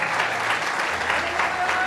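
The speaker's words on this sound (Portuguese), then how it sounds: "Pode aplaudir o Senhor." Congregation applauding in a church service, a dense, steady patter of clapping hands heard on its own at moderate level.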